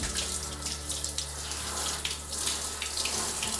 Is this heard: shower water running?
yes